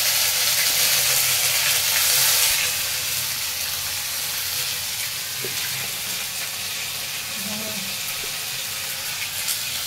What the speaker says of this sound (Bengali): এই সর্ষের তেল দিয়েছি, ওর মধ্যে লবঙ্গ, দারচিনি আর এলাচ গোটা গরম মশলা ফোড়ন দিলাম।